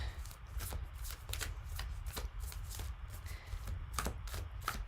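A deck of cards being shuffled repeatedly, quick crisp riffling snaps in clustered bursts over a low background hum, close and fairly quiet, with no talk during the shuffles.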